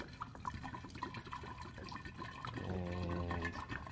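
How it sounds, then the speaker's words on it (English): Hot water is poured into a container at home, starting partway through as a steady, close splashing that swells and keeps running to the end. "I'm going to pour some hot water in here."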